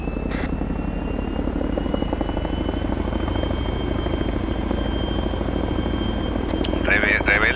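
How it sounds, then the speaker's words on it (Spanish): A vehicle engine runs steadily throughout a tactical military session of the ArmA3 video game, a loud continuous droning hum with a whining rotor-like tone close by, and a brief electronic beep near the end. "Que oigo un motor."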